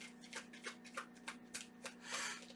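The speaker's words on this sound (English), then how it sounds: "while we're shuffling here" Tarot cards are shuffled by hand, a quiet run of soft papery riffles and rubbing strokes repeating in short bursts close to the microphone.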